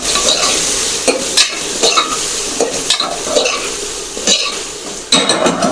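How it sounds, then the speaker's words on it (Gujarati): Tomatoes stirred into onion, potato and ginger-garlic paste frying in a pan for spiced khara bhaat, with a steady sizzle under repeated close scraping strokes of a spoon against the pan. "હવે આપણે નાખીશું ટમેટા તેને પણ આપણે સારી રીતે મિક્સ કરી લઈશું"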